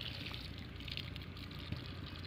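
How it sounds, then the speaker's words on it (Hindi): Water from a shower-head watering can falling gently on chilli seedlings in a plastic nursery container, a soft, steady hiss and trickle, faint and continuous with no voices. "पानी लगाते हैं शावर से।"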